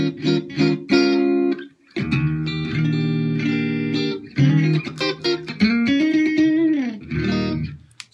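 Clean electric guitar with no reverb, played as a run of ringing chords and sustained single notes, some bent or sliding, with brief pauses between phrases, close and fairly loud.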